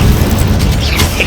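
A fire spell cast in Hogwarts Legacy lands as a loud low boom with a fiery burst, short and close, filling the moment with rumbling energy.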